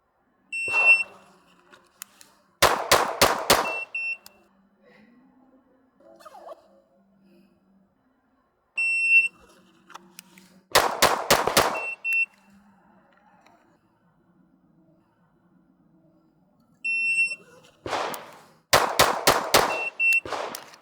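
Handgun shots fired during a self-defense shooting drill, in three quick bursts of about four sharp, loud reports each, separated by quiet pauses with faint electronic beeps before each string.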